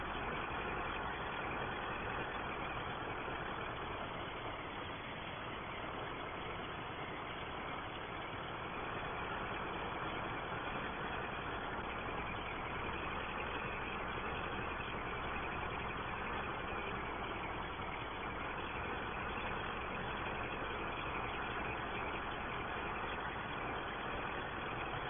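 A Ford 5000 tractor engine idles steadily on a farm, a continuous low rumble with an even, unbroken drone throughout and no speech over it.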